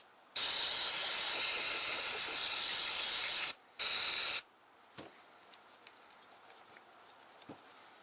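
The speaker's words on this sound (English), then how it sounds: "Let's spray off the outside of the carburetor." Spray cleaner blasts onto a Tecumseh go-kart engine carburetor in a loud, close hiss lasting about three seconds, then a second shorter burst, followed by faint drips and light taps.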